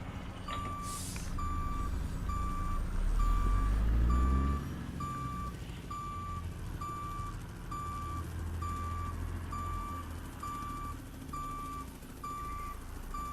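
A truck's reversing alarm beeps in a steady, evenly spaced rhythm inside American Truck Simulator, running loud and clear throughout over a low engine rumble, with a brief heavier thud near the start.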